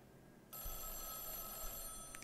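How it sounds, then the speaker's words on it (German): A telephone rings in the horror game Mothered, starting abruptly after a quiet moment as a bright, sustained electronic bell tone over low room hum, fairly quiet, with no talk. "Geh an dein scheiß Telefon"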